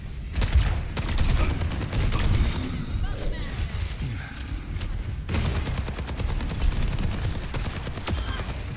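Turret gunfire in the video game Overwatch, sustained rapid automatic bursts with a heavy rumbling low end and one abrupt break, loud and close, with speech mixed in.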